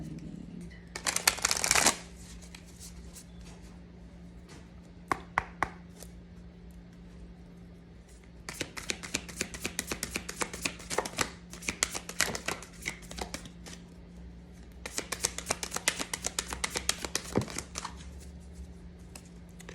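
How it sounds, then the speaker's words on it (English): Tarot cards being shuffled in bursts: a quick riffle early on, a few scattered flicks, then long stretches of rapid papery shuffling that pause and resume, close and fairly quiet with no talking. "I'm going to pull you a couple of cards for a spiritual aspect of it."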